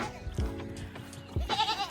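Two goat bleats, one near the start and a louder, wavering one near the end, over a low background hum.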